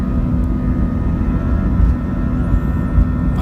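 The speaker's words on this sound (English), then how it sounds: "This is the moment that you feel the momentum as the airplane speeds up." A jet airliner accelerates down the runway on its takeoff roll at San Diego International Airport, heard from inside the cabin as a loud, steady, low engine roar and rumble with no talk.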